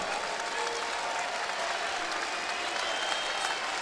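A basketball crowd at the Reed Green Coliseum applauds on its feet during a college game. Dense, steady clapping and cheering fill the arena, loud and continuous throughout.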